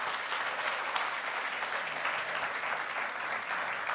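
Members at a credit union's annual meeting give a long, steady round of applause, dense even clapping that fills the room, moderately distant and without speech.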